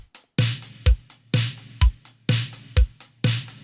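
Basic drum groove programmed in music production software for an 80s pop/italo track, with steady alternating kick and snare hits repeating in an even pattern, dry and close, with no talking.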